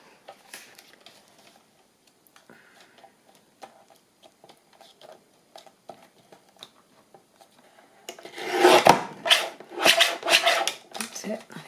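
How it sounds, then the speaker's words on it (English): A paper trimmer cuts paper for a journal: soft scattered ticks and shuffles come first, then a denser burst of crisp slicing and rustling near the end, all close by. "I'm going to straighten my dodgy cutting"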